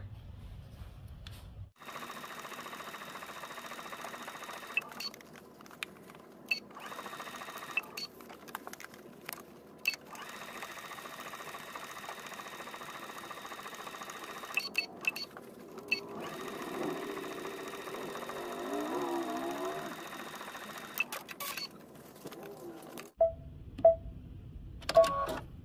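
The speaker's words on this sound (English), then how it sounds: "I'm gonna take it to the machine and I'm gonna edge stitch the pocket" A sewing machine runs steadily while edge stitching a pocket on a garment, humming continuously for most of the stretch with brief pauses and small clicks, then stopping near the end.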